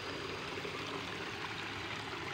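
River water flows along a riverbank as a constant, dense rushing wash, close and even for the whole short stretch, with no voices.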